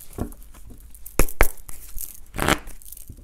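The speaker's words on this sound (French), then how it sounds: "Je vais retirer des cartes pour voir pour la suite" Tarot cards drawn and shuffled from a deck, giving a few sharp papery snaps and crinkling rustles close by, with quieter card handling in between and no talk.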